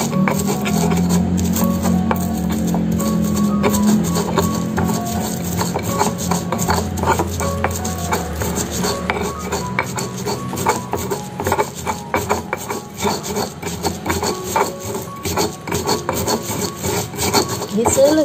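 Coriander seeds, garlic and salt ground in a mortar with a pestle, a steady rough rubbing and rasping that continues close up for the whole stretch without talk.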